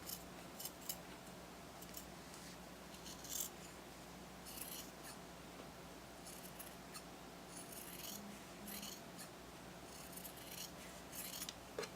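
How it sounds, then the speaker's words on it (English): Scissors trim the excess seam allowance from a small fabric plush dragon. The snips are quiet, close and repeated, with faint rustling in between and no talking. "So now I'm going to go ahead and trim all my excess seam allowance."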